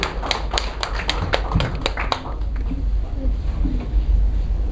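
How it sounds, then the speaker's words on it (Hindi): Applause from an audience at a state-level teachers' award ceremony, a run of sharp claps near the start that thins out, with a voice speaking over it and continuing afterward. "जोरदार तालियां बजाते रहिए।"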